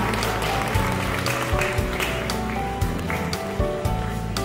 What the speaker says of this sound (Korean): 여러분 축하의 박수 보내주시기 바랍니다.